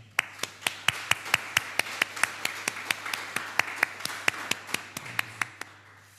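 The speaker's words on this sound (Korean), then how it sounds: "우리 옆에 있는 분들을 박수로 환영하도록 하겠습니다." Steady, evenly spaced claps ring out one after another, crisp and fairly close, as a church congregation welcomes one another during a Sunday worship service in Darmstadt.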